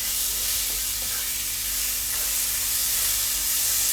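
Chopped tomatoes hit a hot pan while cooking dal, giving a steady, close sizzling hiss that holds evenly throughout with no talking.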